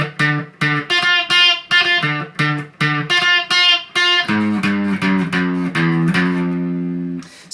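Distorted electric guitar plays the chorus of a song: a run of short, choppy, rhythmic chords, then longer sustained ringing notes, loud and close with no talking.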